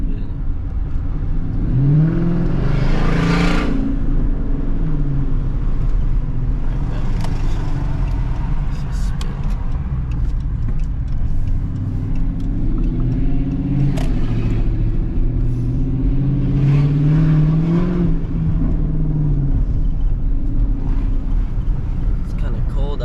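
A Dodge Charger engine pulls hard on a night drive, rising in two long revving sweeps with a steady rumble between them, loud inside the cabin while someone talks over it.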